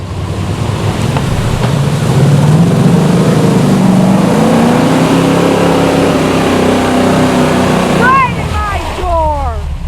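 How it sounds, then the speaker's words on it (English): A wrecker tow truck pushes through a mud hole, its engine revving and droning under a heavy wash of sloshing, splashing noise, with a few high voice-like squeals near the end. "the wrecker might not make it through the mud hole"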